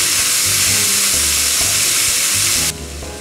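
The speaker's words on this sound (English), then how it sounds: "flip that over and continue to cook. It kind of looks like to me the mushrooms should cook longer." Portabella mushrooms fry loudly in a pan with a dense, steady crackle, a low pulsing hum underneath, and the sizzle drops away sharply near the end.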